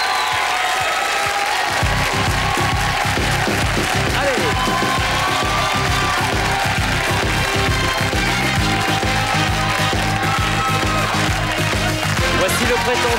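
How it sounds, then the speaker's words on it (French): An audience applauds and cheers French breakdancers at a 1999 world-record attempt, crowd noise swelling into steady rhythmic clapping that runs loud and continuous, with a voice talking over it. "je vous demande de les applaudir, les meilleurs breakdancers français"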